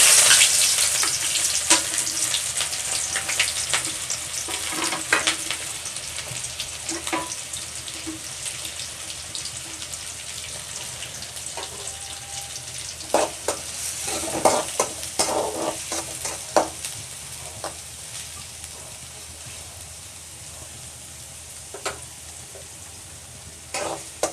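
Chopped onion and green chillies fry in a few spoons of oil in a village-style kitchen, giving a steady close sizzle broken by clattering stirs and scrapes that grow sparser over time.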